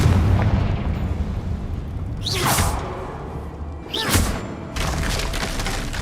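In the Hogwarts Legacy video game, a Confringo fire spell bursts twice: each blast opens with a rising whoosh and then a booming explosion, over a dense background of game ambience.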